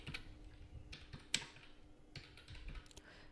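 An ID number being typed on a computer keyboard, a few soft key clicks in short bursts with one sharper tap, quiet and close against faint background hum.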